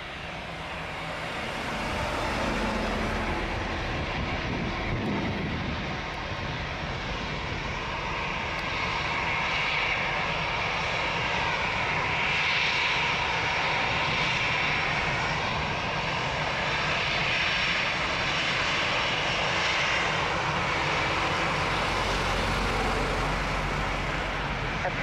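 A jet airliner rolls and takes off from runway 02 at Lisbon Airport, a broad roaring engine rumble that swells and holds loud for about twenty seconds before easing, heard from a distance.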